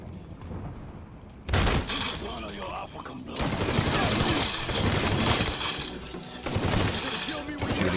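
Gunfire crackles through a Mafia III firefight: after a brief lull, loud rapid volleys of shots burst out close by and keep going in heavy, overlapping rounds.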